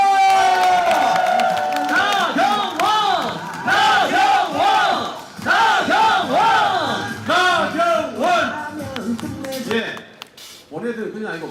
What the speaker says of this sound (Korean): 큰 박수로 보내드립시다